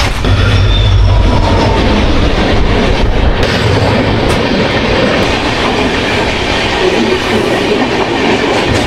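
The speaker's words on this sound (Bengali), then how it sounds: "ট্রেন ক্রসিং দেখতে বন্ধু এত ভালো লাগে কি বলবো, ট্রেন জার্নির এই হচ্ছে আসল মজা, একটা ট্রেন আরেকটা ট্রেনের সাথে দেখা।" Two trains pass each other on the railway, one the Gurumukhi SF Express from Kolkata, with a loud continuous roar, rhythmic clickety-clack of wheels on rail joints and brief wheel squeals, heard close and alone.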